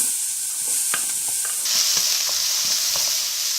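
Butter melting in a hot pan for pumpkin soup, a steady close hissing sizzle that swells louder partway through, with light clicks of stirring and no talking.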